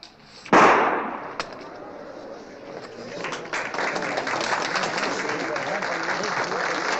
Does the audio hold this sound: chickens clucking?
no